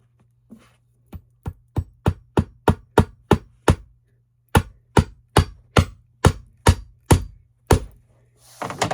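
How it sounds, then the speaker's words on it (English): A hammer drives tacks or staples into a sewing chair being re-covered with new fabric, two runs of a dozen or so sharp, evenly spaced knocks close by, separated by a short pause, with no speech. "Hammer."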